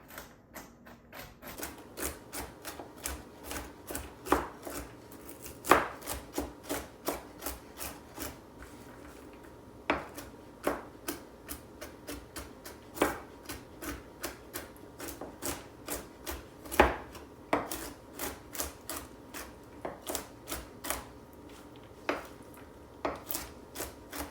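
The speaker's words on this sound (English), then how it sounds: "And then we also need a cup of walnuts. And we'll give them a rough chop as well." Walnuts chopped roughly with a knife on a board, a steady run of sharp knocks and rasps repeating in uneven clusters for the whole stretch, close and fairly quiet, with no talking.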